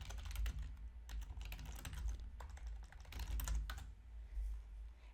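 Someone types a search on a computer keyboard in steady, quick clusters of close key clicks over a low room hum, with brief pauses between bursts.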